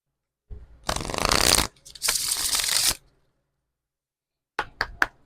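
Tarot cards shuffled during a pick-a-card reading: two long riffling, rustling bursts close to the listener, followed after a pause by a few sharp card taps and knocks.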